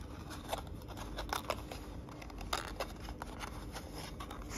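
Paper is folded and tucked into a geometric net, giving soft crinkling and rustling with a few sharper creases, close and quiet against a steady background hiss.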